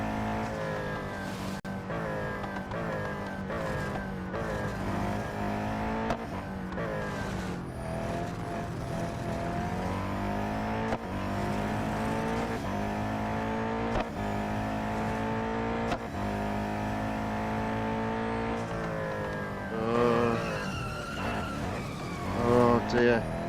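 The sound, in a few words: race car driving and braking in Real Racing 3 video game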